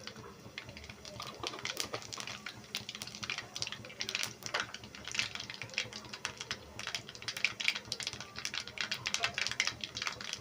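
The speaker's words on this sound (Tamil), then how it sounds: "இப்போ எண்ணெய் காய்ஞ்சிருச்சு. கடுகு பருப்பு போட்டுக்கலாம்." Mustard seeds and lentils crackle and pop steadily in hot oil for a spicy Madurai eggplant masala, a dense stream of sharp sizzling ticks heard up close.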